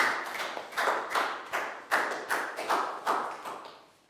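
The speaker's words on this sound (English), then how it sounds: "High five and a big round of applause." Several bursts of hand clapping from a small group of children in a school classroom, uneven and sharp, each decaying quickly; close applause in irregular rhythm.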